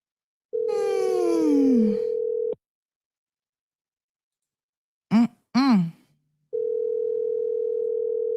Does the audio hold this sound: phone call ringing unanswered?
yes